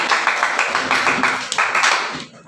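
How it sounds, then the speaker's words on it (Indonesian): Students at a school guidance session clapping for themselves, a brief burst of brisk, somewhat uneven hand claps from a group in a room, lasting a couple of seconds before dying away. "wes tepuk tangan untuk diri kalian sendiri"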